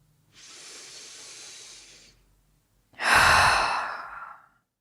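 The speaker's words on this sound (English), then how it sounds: "Let's take a deep breath together." Two deep breaths taken slowly and close up, a softer airy inhale followed after a pause by a louder, heavier exhale that trails off, with no talking.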